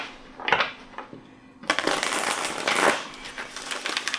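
Large, stiff oracle cards riffling and slapping together in several bursts, close and fairly loud, with crisp papery flutters.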